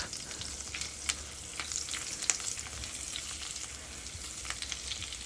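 Shrimp sizzle in a pan of butter and olive oil, a steady close crackle with sharper pops and spits scattered over five seconds and no voices.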